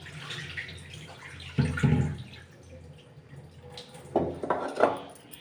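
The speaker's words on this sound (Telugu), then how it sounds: "నీళ్ళు వంపేసుకుందాం." Water poured off rice that has soaked for half an hour, in a home kitchen while preparing curd rice: two splashy bursts of pouring and trickling, close and moderately loud, with quieter dripping between.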